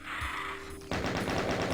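The double-barrel shotgun firing in the Doom video game, a loud close blast followed by a rapid series of repeated shots and clatter, with no talk over it.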